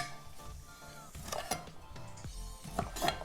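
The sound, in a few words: knife cutting smoked sausage into chunks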